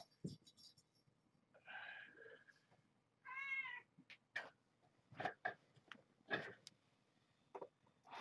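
Kittens meow repeatedly in a quiet room, giving several short, close cries at uneven intervals, with soft clicks and rustles between them.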